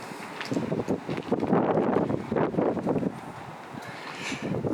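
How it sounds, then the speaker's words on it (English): Gusty wind buffets the microphone in uneven bursts, rumbling and rustling, swelling and easing over several seconds with no talking. "Yeah, it's real windy."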